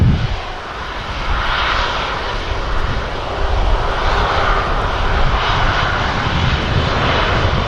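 Heavy Wamos Air A330 jet airliner at Manchester Airport, a loud, sustained engine roar with broad rushing noise that swells slightly as it passes, heard from outdoors.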